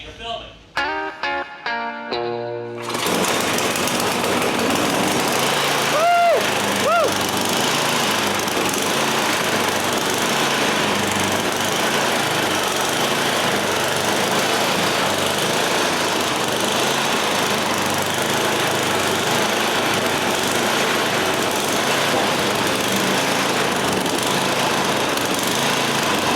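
An MTD snow blower's small engine starts after a few pulls and runs steadily, loud and close, a constant rough drone that continues unbroken for over twenty seconds.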